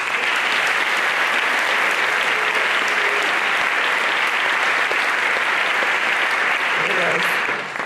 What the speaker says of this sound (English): Please join me in applauding them all